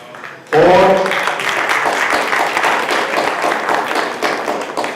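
Audience applause at an Eid Millan and Independence Day gathering, a sudden, loud, sustained wash of many hands clapping that follows a brief moment of a speaking voice.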